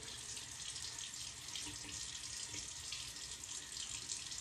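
Water runs steadily from a bathroom tap into a sink, a soft continuous hiss and splash heard close up and fairly quiet, with no talking.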